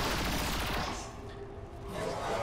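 Gunfire in the video game XCOM 2, a loud dense burst of shots that fades and then swells again across a couple of seconds, with no talk over it.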